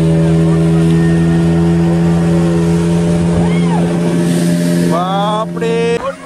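A motorboat engine drones steadily and loudly on the water of a Jharkhand reservoir, its low hum running throughout, with voices chirping briefly near the end.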